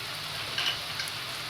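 Peas dropped into hot tempering oil sizzle with a steady, dense hiss that stays even throughout, close and moderately loud with no talking.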